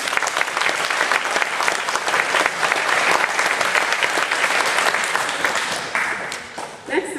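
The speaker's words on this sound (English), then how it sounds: "Peyton Blake, let's give her a round of applause." A crowd at a senior strings awards event gives loud, dense applause, a continuous close wash of clapping that holds steady for several seconds before thinning out toward the end, with a voice briefly coming through at the close.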